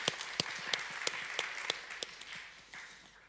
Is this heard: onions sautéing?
no